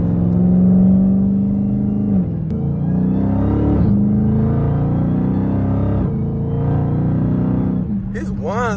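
A Dodge Challenger Hellcat accelerates hard through several gears, its supercharger whine rising in pitch with each pull and dropping at the shifts, loud and close over a deep engine rumble.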